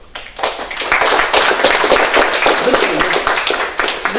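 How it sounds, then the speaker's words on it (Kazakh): An audience applauds at a meeting with a writer and poet, a dense, loud burst of clapping that rises quickly and holds steady for several seconds. "Шапалақ."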